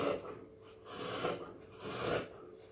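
Blouse fabric being cut to trim away extra pieces produces soft, rasping cuts in three slow swells, close and fairly quiet with no talking.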